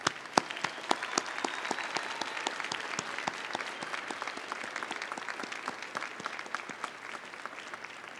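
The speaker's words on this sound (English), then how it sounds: "give all these people a round of applause." Graduation ceremony audience at a university winter commencement applauding steadily, a dense field of many hands clapping at moderate distance for several seconds without a break.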